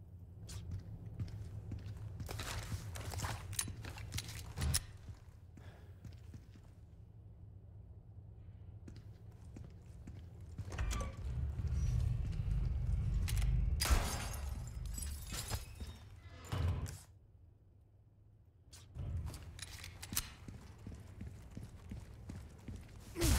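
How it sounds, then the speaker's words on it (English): Footsteps of the character Leon in the video game Resident Evil 4 Remake, a series of light, hard, clicking steps with some clattering and crunching, coming in uneven bursts separated by quieter pauses. "Leon's footsteps kind of sound like the wind-up toy a little bit."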